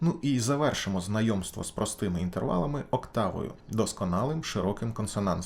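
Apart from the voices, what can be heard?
None of the usual background noises is heard.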